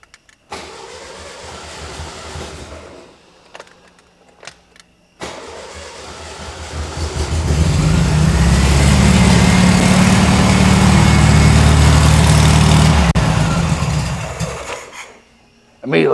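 Engine of a VW-based Ford Model T kit car with a bad carburetor cranking, catching and settling into a loud, steady idle close by, then cutting off.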